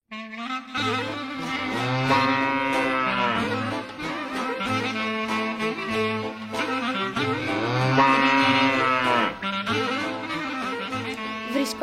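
Cows at a livestock farm low in long, drawn-out moos that overlap and swell, loud and close, continuing for several seconds with no clear talk over them.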